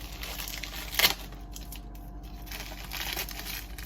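A knife slits open the plastic packaging around a shirt, giving a short crinkling, tearing burst near the start with softer rustling of the wrap before and after, close and fairly quiet.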